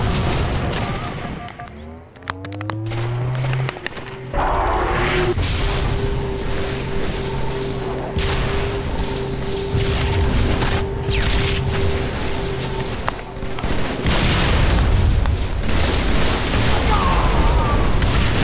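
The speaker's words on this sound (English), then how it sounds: "There are the rockets." Rocket blasts in Halo 3 gameplay, a series of loud booms and bursts over dense game noise, with a rising whistle near the start and continuous rumbling through the rest.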